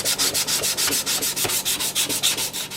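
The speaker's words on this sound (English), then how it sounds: "cleaned up some of the grinding marks with sandpaper" Sandpaper rubbed by hand over a steel hammer head to smooth away grinding marks, a steady run of quick, even rasping back-and-forth strokes, close and loud with no voices.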